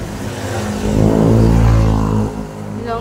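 Motorcycle engine revving up close, the drone swelling to a louder peak for about a second before dropping back to a lower idle, with no voices over it.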